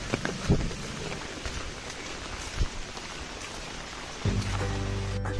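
Heavy monsoon rain falls steadily at Hemalkasa during the rainy season, a continuous dense wash with a couple of brief knocks. A low, steady engine-like hum joins near the end.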